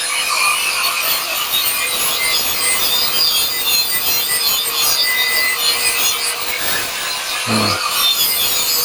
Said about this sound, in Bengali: তো আমরা কাটিং মেশিন দিয়ে কাটিংটা শেষ করে নিলাম